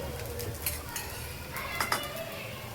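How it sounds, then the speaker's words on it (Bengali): A spoon scrapes and taps against a pan while spreading beaten egg around it, producing light metallic clinks over a steady background hiss, with no talking. "এই যে ডিমটা দিয়ে এরকম করেই চামচে করে একটু"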